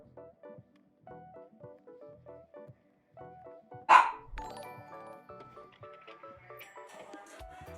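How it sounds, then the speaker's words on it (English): A puppy barks once, a sharp loud yip that stands out over a repeating ticking, clock-like musical pattern in the background. "Puppy."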